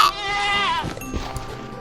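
A goat in Minecraft lets out a loud wavering bleat, followed by a few softer game sounds, with no voices over it.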